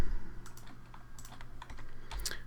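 Computer keyboard keys are pressed in a short burst of crisp, close clicks at an irregular typing rhythm, heard alone while working in CAD software.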